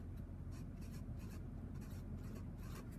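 Pen writing out a precalculus math solution, scratchy strokes in quick rhythmic bursts, close and soft, continuing steadily with no talk.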